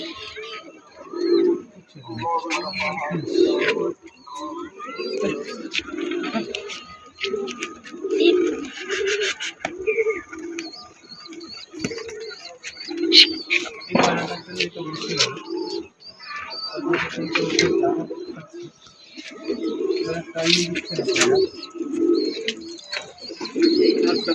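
Pigeons coo repeatedly near a loft after being let out to fly, a soft, rhythmic stream of low throaty calls that continues throughout, with someone talking at times and other birds chirping faintly.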